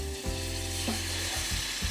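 Roithai curry paste poured into a very hot pot gives a loud, continuous close sizzle, with a crackling hiss and a few soft stirring bumps, and no talk.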